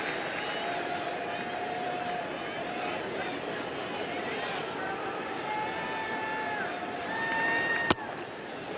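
A packed baseball stadium crowd at ALCS Game 6 roars in a steady, broad cheer with scattered clapping, holding loud and constant throughout, with one sharp crack near the end.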